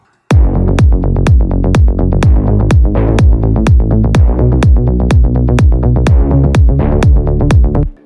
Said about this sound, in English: The bass line sounds like this.